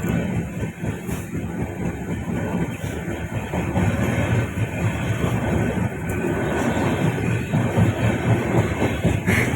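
Steady rumble of a moving passenger train approaching Howrah near Kolkata, with a continuous carriage drone and faint rhythmic wheel clatter throughout.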